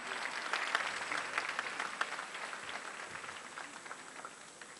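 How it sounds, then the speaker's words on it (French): An audience applauds prize winners at a French awards ceremony, a soft, steady patter of many hands echoing in a hall, fairly distant and fading slightly toward the end. "Nos lauréats méritent quand même des applaudissements un peu plus..."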